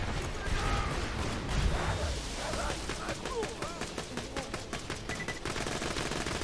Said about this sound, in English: Those are drunk grog nozzle shots.